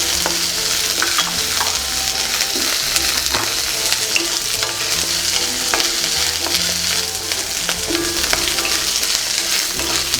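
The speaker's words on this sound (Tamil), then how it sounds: "வெங்காயம் கொஞ்சம் வதங்கியிருக்கு" Onions fry in a pan of hot oil for drumstick kuzhambu, a loud, continuous sizzle up close, with the scrape and clatter of stirring repeating throughout.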